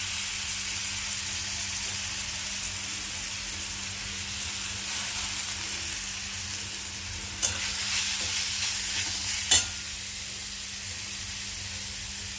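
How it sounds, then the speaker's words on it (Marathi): Grated radish stir-frying in hot oil with crackled cumin and mustard seeds gives a steady soft sizzle and hiss, broken by two sharp scraping stirs of a spoon in the pan, with no talking. "आता आपण याच्यामध्ये किसलेला मुळा घालून परतून घेऊ।"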